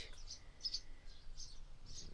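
Faint, high bird chirps repeat in short bursts every half second or so over a quiet background, with a few brief tweets standing out slightly louder.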